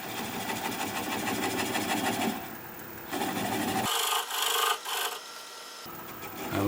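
A cracked piece of wood spins on a lathe at about 400 RPM, close by, with a rough scraping, rasping rumble from the tool cutting. It changes in bursts as the cut starts and stops.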